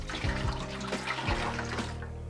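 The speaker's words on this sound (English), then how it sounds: "I'm going to use the cold water to rinse out the pan" Cold tap water running into and swirling around a pan to rinse it during homemade mango wine making, a continuous close splashing and gurgling wash with no talking.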